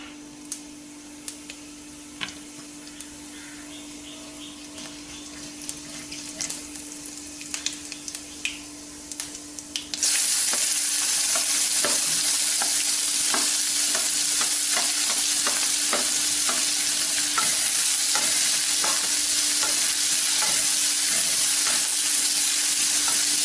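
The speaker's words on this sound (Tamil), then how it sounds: "கொஞ்சம் வெங்காயம் நல்லா வதங்கிக்கட்டும்." Onion sautéing with mustard seeds and cumin in a pan for an Indian capsicum masala, starting as quiet stirring and then turning into a loud, steady sizzle with scattered crackles and spoon scrapes.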